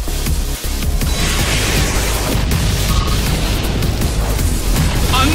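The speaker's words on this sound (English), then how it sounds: "Annihilated by explosion!" A blast from the Explosion move in the Pokémon Battle Revolution video game: a loud, dense, sustained booming roar that fills the whole stretch without letup, with no talk over it.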